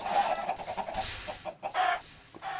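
Chickens in the video game Minecraft cluck repeatedly in short, loud bursts, several birds overlapping in close succession with brief gaps between calls.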